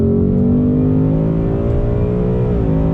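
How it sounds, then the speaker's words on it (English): A 2020 Ford Mustang GT V8 accelerates out of a turn, a loud, deep, rumbling engine note rising steadily in pitch with a brief dip near the end, heard close from the car, no speech. "You're never gonna get bored of that Mustang sound, that is for sure"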